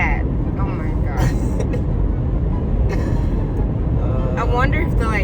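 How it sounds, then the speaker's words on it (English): Steady road rumble fills the inside of a moving vehicle on a road trip, loud and low throughout, with people talking over it. "Like the driving noise is too loud."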